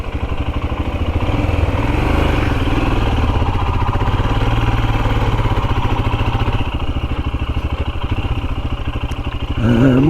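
A Royal Enfield Himalayan motorcycle thumps along Cornish country lanes, its single-cylinder engine beating a loud, steady, close rhythm that swells slightly as it rides on.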